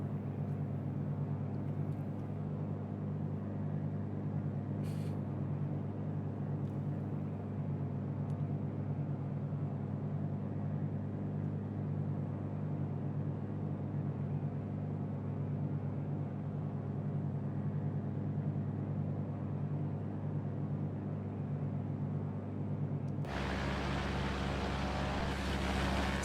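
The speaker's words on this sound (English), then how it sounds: "certainly done something to the engine sounds of the Mooney" A Mooney aircraft's engine in a flight simulator game drones in a steady, even hum for over twenty seconds, then the tone changes abruptly near the end.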